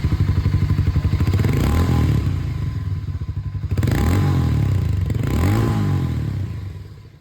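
The Harley-Davidson X440 motorcycle engine is heard up close, with a loud, throbbing idle that builds into two rising revs, and a pulsing rhythm of thumps from the single cylinder throughout.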